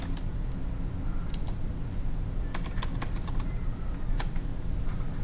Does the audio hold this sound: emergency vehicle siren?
no